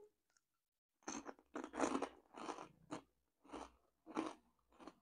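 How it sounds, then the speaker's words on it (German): Funny Frisch paprika lentil chips crunched up close, a series of about seven crisp bites and chews after a second of silence, each crunch sharp and brief. "ich liebe, wie das knuspert"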